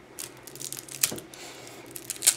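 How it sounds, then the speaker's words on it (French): A deck of game cards being unwrapped, its plastic packaging tearing and crinkling up close in short irregular bursts, with a sharper rip near the end. "les cartes, on va déballer ça"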